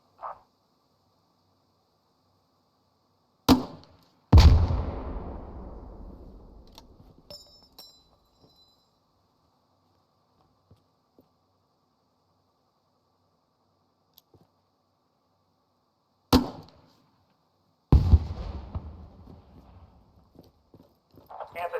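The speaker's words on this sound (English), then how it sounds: "Grenadiers in your squad carry a grenade launcher slung under their primary weapon. These fire 40mm grenades" Game gunfire from Squad: a 40mm grenade launcher slung under a rifle fires in sharp thumps, each followed by a booming blast whose rumble slowly fades. Two such pairs are separated by long near-silence.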